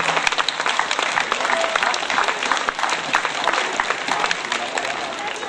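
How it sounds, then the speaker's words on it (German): A hall audience claps steadily for several seconds at the Prima Klima Schramberg 2010 welcome event, a dense, loud wash of hands with no voices over it. "Da darf man auch mal klatschen."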